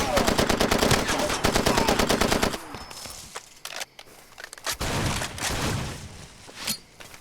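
Stored ammunition cooks off in the Far Cry 2 shooter, a rapid loud stutter of popping rounds for a few seconds, then scattered separate cracks and thuds trailing off.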